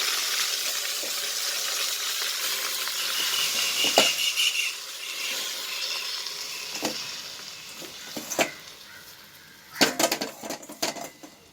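Manathakkali (black nightshade) greens with mustard seeds sizzle and hiss loudly in a hot steel pan, with occasional clinks and scrapes of stirring breaking through the steady crackle.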